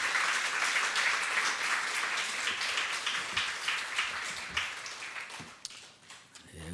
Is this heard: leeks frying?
no